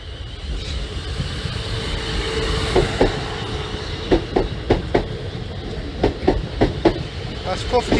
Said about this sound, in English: that could be an ECS or a test train